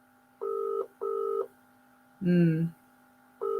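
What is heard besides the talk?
telephone dialing a call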